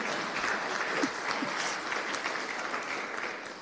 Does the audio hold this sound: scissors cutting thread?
no